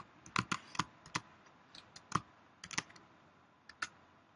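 Someone typing on a computer keyboard, a sparse, irregular series of crisp close key clicks with short pauses, quiet and alone without speech.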